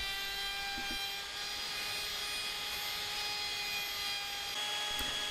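A router with a 7.5 mm radius bit mills a U-shaped groove into a wooden pulley, giving a steady, fairly quiet high-pitched whine with harmonic tones and an even cutting hiss, without speech.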